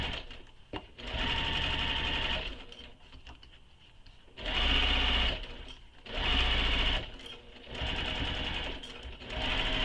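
Sewing machine basting a zipper onto a backpack, running in four steady bursts of rapid stitching separated by short pauses, loud and close.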